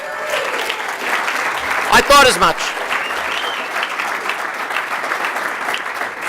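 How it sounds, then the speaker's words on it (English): An audience claps throughout at a charity organisation's launch event, a dense steady round of applause in a room, with a brief spoken remark heard over it. "that alone would be justification for a spontaneous round of applause"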